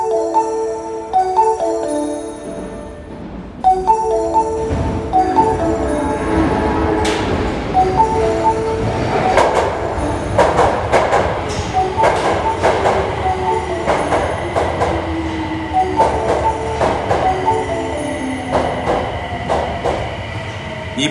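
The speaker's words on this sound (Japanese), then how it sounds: "2番線に宮古島行きが到着します。" An Osaka Metro Tanimachi Line subway train rumbles into Tanimachi 4-chome station, with wheels screeching and clattering over the rails and metallic squeals rising as it slows to a stop.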